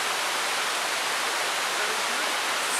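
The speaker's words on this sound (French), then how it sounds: "avec les cascades qui sont juste à côté, on entend uniquement le bruit de l'eau" Broadband roar of cascades on a river beside small nature trails in Auvergne, France, a steady dense rush of water that fills the whole clip without pause or talk.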